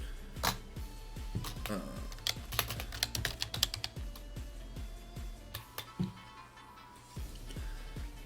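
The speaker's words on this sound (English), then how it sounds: "Sorry if you hear a little bit of typing." Rapid typing on a computer keyboard during a live esports match broadcast, clattering in irregular bursts of keystrokes close to the microphone, with quiet background sound from the game.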